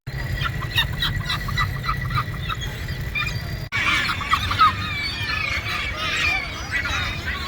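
Seagulls call over and over near the Galata Tower in Istanbul, a busy mix of harsh squawks and cries against steady outdoor background noise.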